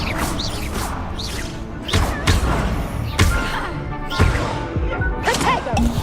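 An Incendio fire spell goes off in Hogwarts Legacy amid combat, with repeated heavy thuds, whooshing bursts and crashing impacts in quick, loud succession, along with game voices.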